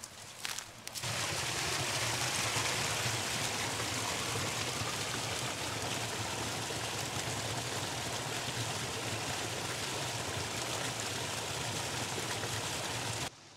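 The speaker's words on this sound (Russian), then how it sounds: "Весна просыпается, так журчит ручей." A babbling spring stream on a rural farmstead makes a continuous, even rush and gurgle of flowing water, close and steady for over ten seconds with no voices.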